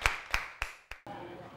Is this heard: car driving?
no